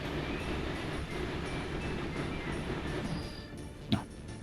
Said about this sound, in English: Let's follow this train along a little bit.